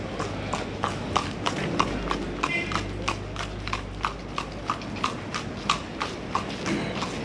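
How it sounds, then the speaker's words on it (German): Horse hooves clip-clop steadily at a riding gate of a sports club in Cairo, a brisk regular rhythm of crisp hoof strikes at moderate distance over a low background hum. "Ja, hier ist auch das sogenannte Horse Riding Gate. Ein Horse sehen wir da schon links."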